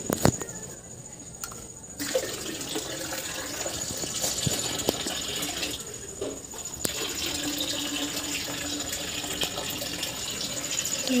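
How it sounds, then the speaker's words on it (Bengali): Water pours steadily and splashes outdoors on a hot evening, a continuous gushing wash that runs for the whole stretch, with a person talking over it. "তো এই দেখো এখানে জল পড়ছে"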